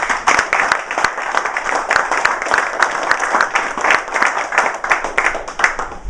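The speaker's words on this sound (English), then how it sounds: "please give her another round of applause" An audience applauds at a marine science station event, with dense, continuous clapping that holds steady and close for several seconds, loud and full, with no voices over it.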